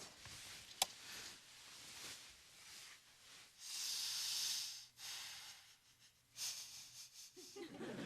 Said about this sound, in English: stop sniffing the pillow